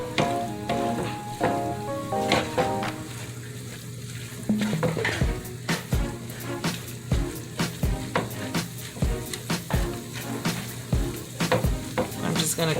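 Sausage and ground beef mixture fries in a pan for lasagna meat sauce, a steady close sizzle broken by repeated sharp scrapes and knocks of a utensil stirring the meat, with no talk.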